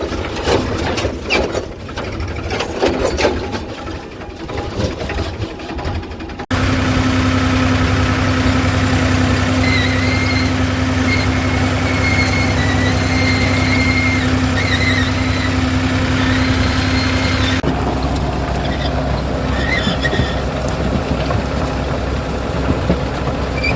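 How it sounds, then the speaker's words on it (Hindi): A heavy tractor engine with a rotavator attached idles and runs steadily up close, a constant low rumble with a mechanical whine, shifting in tone partway through. "रूटावेटर जोड़ लिया है भाई ट्रैक्टर का"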